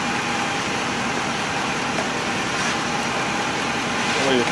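A Ford 6.7 Powerstroke diesel pickup, its check-engine light on amid DEF concerns, idles close by with a steady, dense rumble and hiss that runs unbroken throughout, with a voice talking over it.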